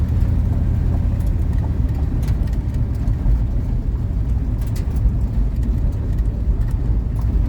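A car engine revs hard and steady through a rubber-smoking burnout, a loud continuous roar with rough low rumble and scattered bursts of tire noise, heard close with no voices.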